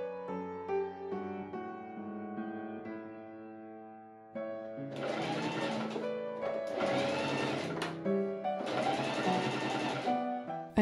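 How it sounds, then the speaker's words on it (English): A sewing machine stitches a seam on a corset hoodie in three loud whirring bursts over the second half, with music playing throughout. "I machine sew that seam up."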